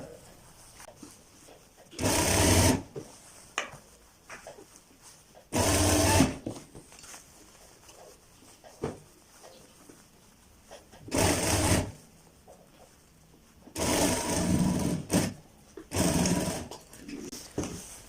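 A sewing machine stitches a kurta in about five short, loud bursts of rapid whirring, separated by quiet pauses, close by.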